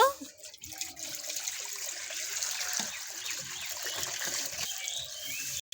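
Water poured into a cooking pan (kadai) set on a lit stove, a steady close splashing stream running throughout with a brief break near the start.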